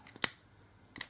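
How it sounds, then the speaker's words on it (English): Scissors snipping off excess fabric or trim while decorating plastic Easter eggs, two short crisp cuts close to the mic, otherwise quiet. "I'm just going to cut that there, cut the excess off"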